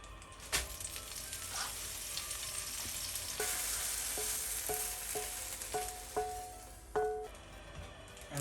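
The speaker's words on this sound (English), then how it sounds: "Now I'm gonna fry my spinach." Spinach sizzles steadily as it fries in a pan for a Korean rainbow rice bowl, with occasional metallic clinks and stirring scrapes of a utensil against the pan and no talking.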